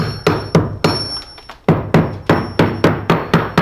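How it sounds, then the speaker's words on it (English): A hammer taps hard plaster in a steady series of sharp knocks, about a dozen strikes with a short pause midway, close and loud. "you want to go around and tap with the hammer."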